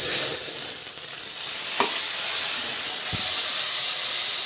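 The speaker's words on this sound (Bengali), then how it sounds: "এবার মশলাটাকে একটু ভাজা ভাজা হতে দেবো।" A paste of ginger, cumin and chili fries in a pan with a dense, bright sizzle that holds steady throughout, broken by a couple of faint clinks, with no voices.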